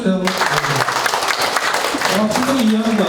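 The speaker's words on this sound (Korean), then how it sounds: "박수 한번 쳐주세요" Steady applause from a crowd at an apartment redevelopment briefing fills the clip, with voices talking over the clapping throughout.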